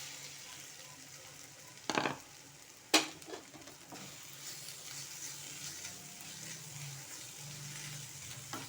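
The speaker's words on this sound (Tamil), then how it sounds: "நான் ஒரு கப் பரங்கிக்காவை நல்லா திருவி வச்சுருக்கேன். நம்ம அதை சேர்த்து நல்லா வதக்கிடலாம்." Grated pumpkin for halwa sizzles softly in a hot pan, with two sharp spoon clinks against the metal early on and then a low, steady frying hiss.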